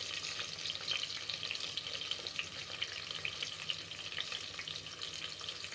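Chopped onions frying in hot oil in a pan for mushroom biryani, with a steady, close, crackling sizzle that runs unbroken throughout at an even level and has no talk over it.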